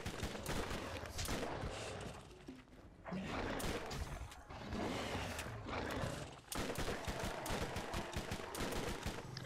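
Rapid bursts of gunfire in the video game Borderlands, loud and close, with dense automatic fire broken by brief pauses and sharp individual shots.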